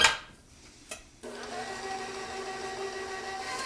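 An electric mixer whirs steadily through peanut butter cookie dough after a few soft bumps, with its motor hum starting abruptly and running evenly at a moderate, close level, with no talking.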